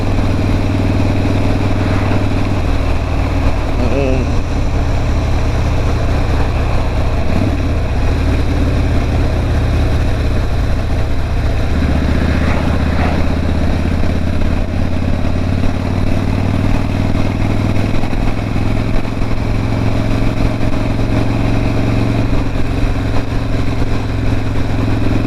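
A Harley motorcycle rumbles steadily on a road ride for the whole stretch, its deep low engine note continuous and loud with wind buffeting and occasional clatter, and no talking.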